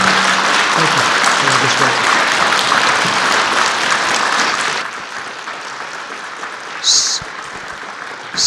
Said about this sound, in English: Can we have a round of applause for these tremendous leaders?